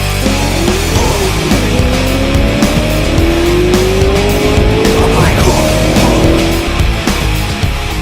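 A BMW M3 GTR race car in Need for Speed Most Wanted roars loudly and continuously, its engine pitch climbing through repeated gear shifts, with tire squeal layered over the steady game engine noise and no talking.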